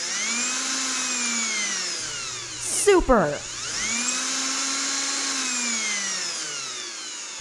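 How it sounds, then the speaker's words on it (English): A power drill backs the screws out of door hinges, whirring steadily with rising and falling pitch sweeps, interrupted midway by a short burst of louder grinding and a brief spoken exclamation. "I can unscrew the hinges and take the door off"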